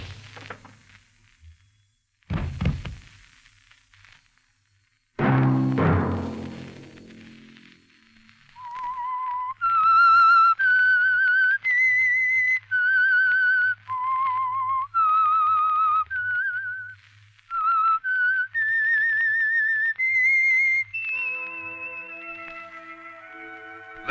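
A lone whistler performs the eerie theme tune of the 1951 radio drama The Whistler, clear sustained notes stepping up and down in a slow melody after a couple of dramatic musical stings, ending on a brief orchestral chord.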